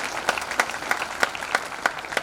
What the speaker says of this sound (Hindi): उसकी बधाई, जोरदार ताली बजा करके